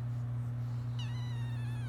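A fluffy bottle-fed kitten lets out one high, thin, wavering meow partway through, heard close over a steady low hum of the room.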